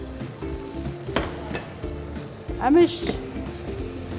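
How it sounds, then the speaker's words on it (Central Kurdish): Chicken wings and necks fry in oil in a cooking pot, a steady sizzle with scraping stirs and a brief utensil clatter; a voice speaks briefly over it. "ڕایەدەین جوان جوان هەتا کەتی ڕەنگە گۆڕیەمیش سوورە بێتەوە"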